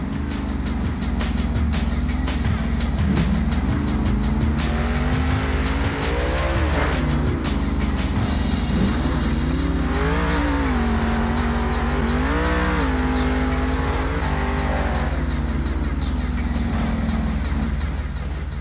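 The Monster Mutt monster truck roars at a Monster Jam show in San Diego, a loud, continuous engine rumble that surges and revs repeatedly, with tire scrubs and crowd noise underneath.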